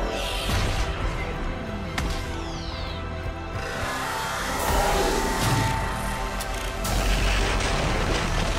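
Heavy booming blasts and rumbling impacts from the Normandy firing on a Reaper's weak spot in Mass Effect 3, several loud explosive hits and crashes over a dense battle din, with no speech.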